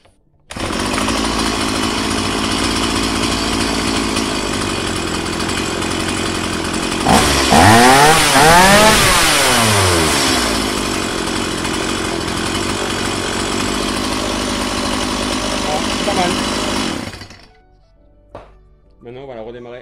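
A long-abandoned chainsaw, restarted and idling too fast, runs loud and steady close by, its engine pitch sweeping up and down as the idle is adjusted before cutting out, with a voice speaking over it.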